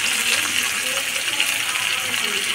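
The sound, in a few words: water poured into the masala while cooking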